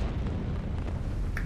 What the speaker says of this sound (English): But here comes an explosion!